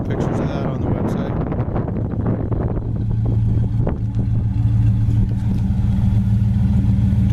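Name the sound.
1967 Oldsmobile Cutlass convertible engine running through dual exhaust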